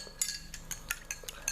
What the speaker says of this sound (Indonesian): Kemudian bisa kita aduk agar tercampur rata.